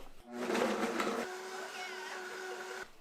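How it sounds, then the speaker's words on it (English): Blender whirring through pozole broth with garlic, salt and Mexican oregano, a loud steady buzzing hum that starts abruptly, surges briefly, then settles into an even drone before cutting off. "And next, you're just going to blend until smooth."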